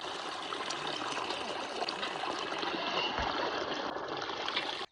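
Icy spring water flows in Sharan Forest, a steady broadband rush of water running continuously at close range, with no talk.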